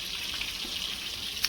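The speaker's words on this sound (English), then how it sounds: "I'm just going to try and get these fried up in here." Waffle fries sizzle in a shallow pan, a steady bright crackling hiss that stays even and close throughout the short stretch.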